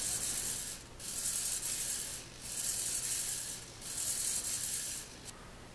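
A servo-driven animatronic conductor figure moves its head and arms, sending out repeated bursts of whirring, grinding gear noise, about four pulses of motor buzz with short pauses between them, close and alone.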